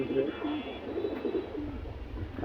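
Domestic pigeons kept in a loft with cages give soft, low, rolling coos against a steady background hiss, with a faint murmur of other sounds mixed in.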